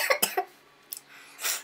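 A few sharp coughs in quick succession, close up, followed by a short pause, a brief throat noise, and a softer breathy exhale.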